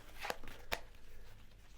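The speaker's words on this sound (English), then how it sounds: "So first of all, a good shuffle." Tarot cards are shuffled in two quick, quiet riffling bursts close by, then give way to soft background noise.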